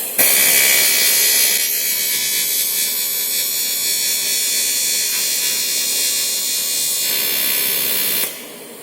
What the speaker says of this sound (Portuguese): Então vamos lá, vamos soldar.